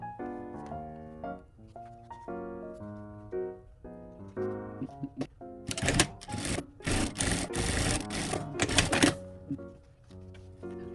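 A sewing machine stitches the seam of a coat lining in rapid, rattling bursts that run for several seconds, close and clear, after some quieter handling sounds.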